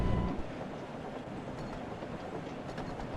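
A train rolls along in a Thomas & Friends video game as it approaches a station, giving a steady, continuous rumble with a faint clatter throughout and no talking.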